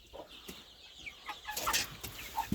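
Hens cluck in short, scattered bursts close by, with a few higher squawks and some rustling, like wings shuffling.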